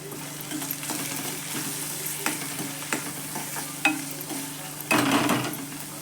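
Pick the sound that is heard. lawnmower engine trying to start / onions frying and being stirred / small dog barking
onions frying and being stirred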